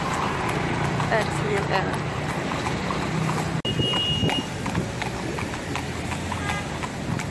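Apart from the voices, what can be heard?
horse hooves clip-clopping, carriage ride in Marrakech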